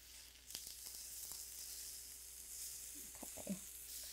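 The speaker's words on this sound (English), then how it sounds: "even with that tiny bit of oil, I'm gonna brown them a little more today." Fish sticks browning in a pan with just a little oil give off a soft, steady sizzle with a few small pops toward the end, with no talking.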